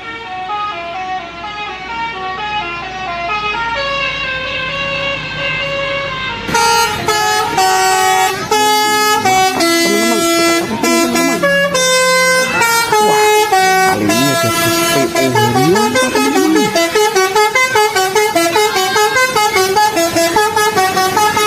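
A Garuda Mas bus sounds its tolelet air horn, playing a long run of loud, tuneful melodic honks that carries on for over twenty seconds.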